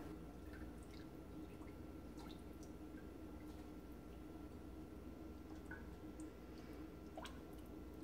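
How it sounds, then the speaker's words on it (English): Cheese culture is stirred into a pot of milk, producing faint, soft liquid squishing and occasional drips over a quiet, steady background hiss. "you can go ahead and stir in the culture into the milk."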